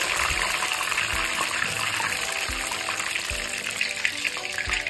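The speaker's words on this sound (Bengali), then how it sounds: "মাছটাকে লাল লাল করে ভেজে নিয়েছি," Battered lote fish fries in hot oil, giving a steady, close sizzling hiss that runs without a break for several seconds, with faint low thumps beneath.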